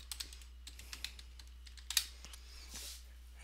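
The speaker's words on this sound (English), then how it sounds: "So let me type in my password." A password typed on a computer keyboard while rooting an Oppo Find5 X909 phone: a quiet, irregular run of light key clicks over a low steady hum.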